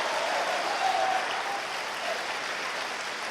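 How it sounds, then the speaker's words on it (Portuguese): Steady, even applause from a church congregation praising God at a conference, a continuous wash of clapping heard alone at moderate level. "Dá uma salva de palmas ao Senhor"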